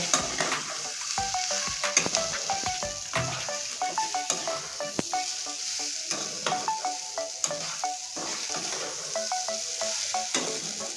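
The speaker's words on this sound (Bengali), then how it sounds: "এবার টমেটো সস আর ম্যাগি মশলা দিয়ে সুন্দরভাবে নেড়ে নেব" Masala corn with tomato sauce and Maggi masala is stirred in a hot pan, a steady sizzle under repeated scraping strokes of the spoon, close and fairly loud, with no talking.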